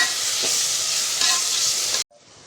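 Ginger, garlic and green chili paste sautéing in hot oil gives a loud, steady sizzle that holds for about two seconds, with a few soft stirring scrapes. It then cuts off sharply to a faint hiss.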